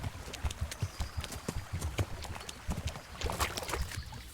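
Horse hooves clip-clop at a steady trot in the video game Kingdom Come, a rhythmic series of quiet, close thuds under a faint ambient bed.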